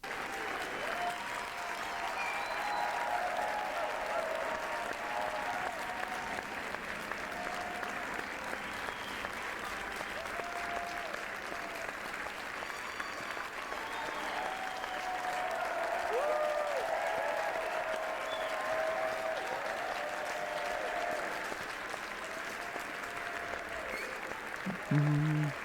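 Sustained audience applause and crowd noise carry on at an even, moderate level for a long stretch, with a brief louder burst near the end.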